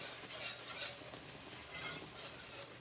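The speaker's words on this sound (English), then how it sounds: "So, take your whisk. I like changing over to a whisk." Whisk beats sausage gravy in a pan, a soft rhythmic swishing and scraping in short repeated strokes, fairly faint with no talking.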